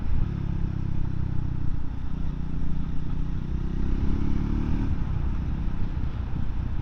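A Triumph Scrambler 400X motorcycle is being ridden, its engine a steady low droning rumble mixed with wind rush throughout, with no voices.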